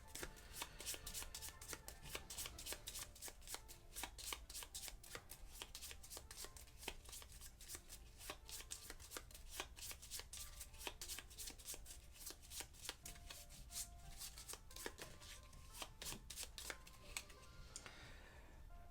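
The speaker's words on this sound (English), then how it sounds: "which we're gonna have to shuffle." A deck of cards for the board game Architects of the West Kingdom is riffled and shuffled close up, a long run of rapid, crisp flicks and snaps repeating steadily with no voices.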